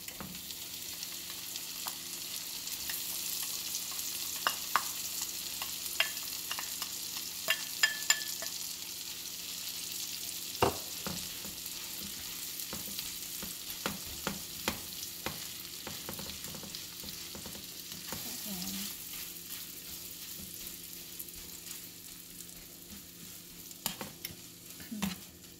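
Ground pork and beef, 85% meat and 12% fat, frying in melted butter: a continuous soft sizzle with scattered small pops and occasional scrapes of stirring, moderately quiet and steady throughout.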